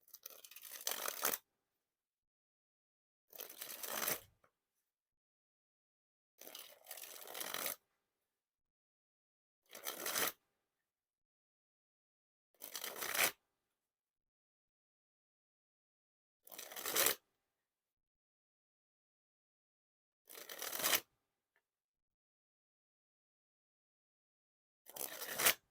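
A fresh Fontaine Carrots deck of playing cards is sprung and dribbled from hand to hand, eight separate crisp, fluttering riffles about a second long each, separated by silent gaps, close and clear.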